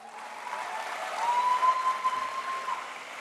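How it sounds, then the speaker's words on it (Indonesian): An audience at a Golkar party political speech breaks into sustained applause, a dense wash of clapping that swells in the middle and stays steady throughout. "kita berikan aplaus."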